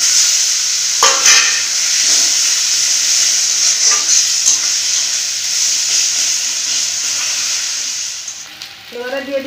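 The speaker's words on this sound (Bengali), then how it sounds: "কাশ্মীরের লঙ্কা গুঁড়ো, হলুদ গুঁড়ো, ধনে পাউডার, জিরে পাউডার ভালো করে নাড়াচাড়া করে নিব" Chilli, turmeric, coriander and cumin powders with chopped tomato sizzle loudly in a pan, with bright hissing frying and occasional scraping stirs up close. A short rattle of utensils falls near the end.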